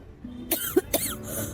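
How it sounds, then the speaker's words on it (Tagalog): A person with a lingering cold coughs three times in quick succession, close and fairly loud, with no talking. "Hanggang ngayon, inuubo ka pa rin?"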